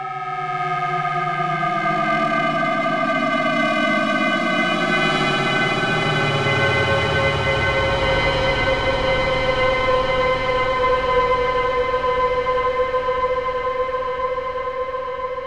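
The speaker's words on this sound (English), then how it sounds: "This is a drone sound that I'm working on for a new pack, and it sounds a bit like this at the moment." Synth drone patch on Cypher2 with LFO-modulated panning, a thick sustained tone whose layered pitches sweep and converge, then hold as a dense, steady, siren-like wash for the whole stretch.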